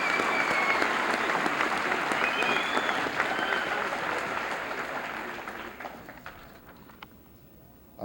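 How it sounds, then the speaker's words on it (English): A school senior assembly audience claps for award winners, with dense, steady applause at first that gradually thins and fades toward the end. "Let's have a round of applause for those winners."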